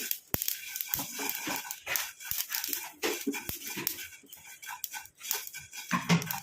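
Mustard seeds spluttering in a hot pan, with rapid crackling pops and sharp ticks scattered across the clip, close and fairly loud.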